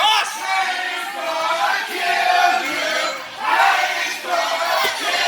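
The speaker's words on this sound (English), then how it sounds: "And the crowd chanting, "Payne is gonna kill you."" A large crowd at a wrestling match chants and roars together in steady surging waves, loud and reverberant, filling the arena.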